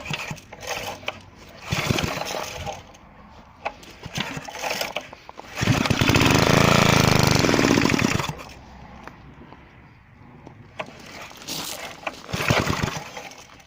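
Recently rebuilt Briggs & Stratton petrol engine pulled over with choke on, giving short loud bursts of cranking before catching and running loud and steady for a couple of seconds, then cutting out, followed by further sporadic pulls.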